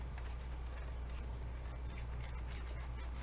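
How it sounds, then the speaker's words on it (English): Scissors snip through old packaging at an angle, a close, quiet rasping cut that runs steadily with no talk over it. "So what we're going to do is we're just going to cut kind of at an angle"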